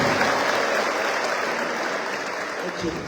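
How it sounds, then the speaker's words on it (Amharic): A church congregation claps together at a Sunday service, a dense, even wash of applause that stays loud for the whole few seconds, with voices mixed in under it. "እባካችሁ ለጌታ ክብር ደግማችሁ አጨብጭቡ"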